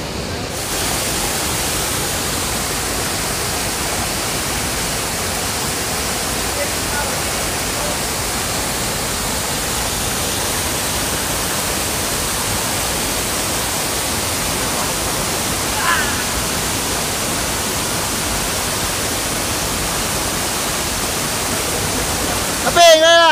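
A river flows during a crossing at a bathing spot in Neiwan, Hsinchu, Taiwan, a loud, unbroken rushing roar of water that fills the whole stretch, with a faint bump near the end.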